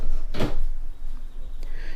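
An RV drawer that extends fully is opened or closed in an interior, giving one short sliding thump near the start over a steady low room hum.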